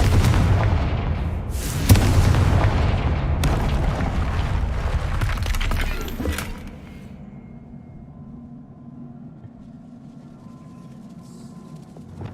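Confringo blasting curse explosions in Hogwarts Legacy land as loud, deep booms, one sharp impact near two seconds and another near three and a half, rumbling on before fading to quiet ambience.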